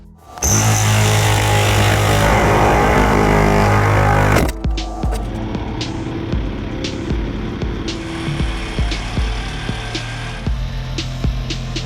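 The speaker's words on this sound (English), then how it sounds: "We drilled these pilot holes to make the job with the Sawzall much easier." A Sawzall reciprocating saw cuts through a box truck wall, starting with a loud, steady buzzing roar up close. After a few seconds it breaks off into clattering knocks and rattling over a lower running noise.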